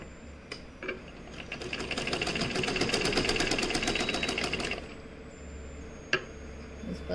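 Sewing machine stitching the edge of a square neckline: a rapid, even mechanical rattle that speeds up, runs steadily for a few seconds and stops, with a few clicks before and after.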